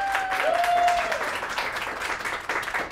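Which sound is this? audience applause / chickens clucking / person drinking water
audience applause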